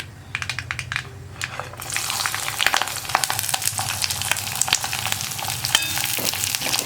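Chopped onion and green chillies sizzle in hot oil for a chickpea curry, the frying jumping louder after a quieter start and then holding a steady, close crackle with light utensil taps.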